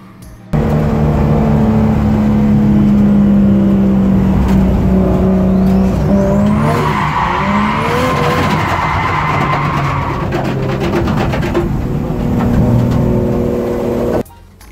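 Drift cars at the Nürburgring Drift Cup slide with loud, sustained tire squeal and roaring engines that rise and shift in pitch, filling about fourteen seconds close up before cutting off sharply.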